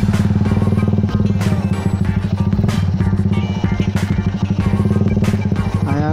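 A Suzuki R150 motorcycle engine idles and revs close by, a steady low pulsing throb with periodic blips of throttle, loud and continuous with a faint clatter and no talk.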